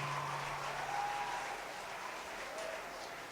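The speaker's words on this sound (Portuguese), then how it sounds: "Pode aplaudir teu irmão então que recebeu essa mensagem" A church congregation applauds at a youth gathering, steady mid-distance clapping that holds for a few seconds and slowly eases off.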